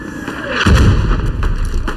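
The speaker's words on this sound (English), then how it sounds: "Never mind, they got machine gun now." Machine gun fire in a World War One Gallipoli battle game: a dense, loud rattle of rapid shots with booming low bursts, a few short cracks trailing off over two seconds.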